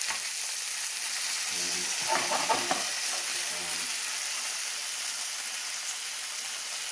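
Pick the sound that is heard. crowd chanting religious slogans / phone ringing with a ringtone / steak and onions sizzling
steak and onions sizzling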